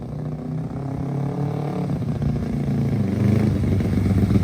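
An engine revs and climbs in pitch, a brief dip as it shifts into second gear, then pulls again with a rising, rumbling drone.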